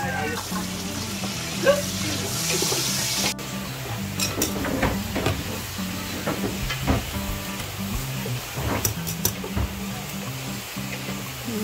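Food fries in a pan with a steady sizzle while a utensil stirs and scrapes at an irregular pace, close by, with occasional talking over it.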